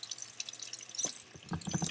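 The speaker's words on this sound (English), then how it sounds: "We have the sink. The water runs, turns on." Water runs from a sink tap into a basin draining straight into soil: a steady hiss with splashing and dripping, close and moderately quiet.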